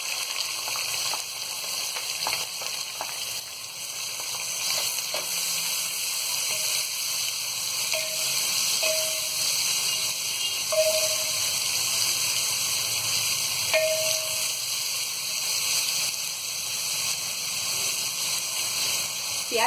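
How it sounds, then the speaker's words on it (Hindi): Onions frying in a pan with cloves, cinnamon and caraway for Sindhi chicken biryani, a soft continuous sizzle with faint stirring scrapes and occasional small clinks. "प्याज को हम गोल्डन ब्राउन होने तक फ्राई करेंगे।"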